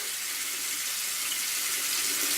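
Water from a tap runs steadily while a paintbrush is rinsed under it, making a continuous, even hiss and splash that stays close and unbroken throughout.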